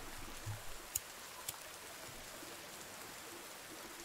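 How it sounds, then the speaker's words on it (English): Rain falls steadily in the video game The Forest, a faint even hiss of drops spread across the whole stretch, with a couple of brief soft taps and no talking. "Does it keep going out because it's raining?"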